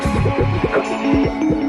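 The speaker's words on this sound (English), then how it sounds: "A pre-cut piece of cotton is slid into the space reserved for the gusset and automatically sewn" An automatic industrial machine sews a pre-cut cotton gusset into pantyhose, giving a close, rhythmic mechanical throbbing with repeated regular thumps throughout.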